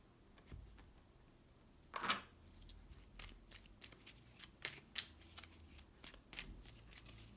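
A tarot deck being shuffled by hand: a brisk riffle burst, then a run of soft, scattered card flicks and slaps at close range, quiet and without talk.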